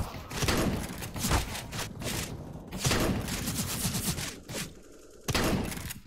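Rapid gunfire from different weapons in the video game Counter-Strike: Global Offensive, dense rattling volleys and repeated shots in several loud bursts with brief lulls between.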